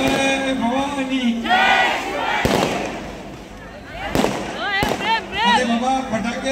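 Firecrackers bursting at a Maharashtra assembly election rally in Thane, a few sharp loud cracks scattered among crowd cheers and shouting, with someone speaking over a loudspeaker.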